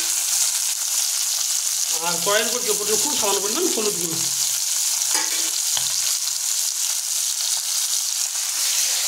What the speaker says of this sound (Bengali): আমরা এই গরম তেলের উপর যোগ করে দিচ্ছি 100 গ্রাম চিংড়ি মাছ।